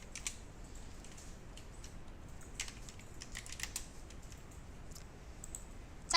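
Light computer mouse and keyboard clicks during Photoshop work, a scattered series of soft, close clicks over a quiet background with no talking.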